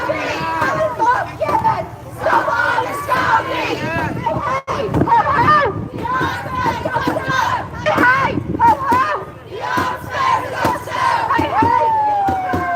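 Loud crowd of protesters at a Liverpool protest against the arms trade, with dense overlapping shouts and chanting voices filling the scene continuously.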